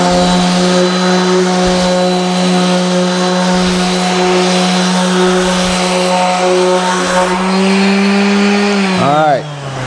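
A power sander works marks off a wooden board with a loud, steady motor whine close by, then winds down sharply at the end.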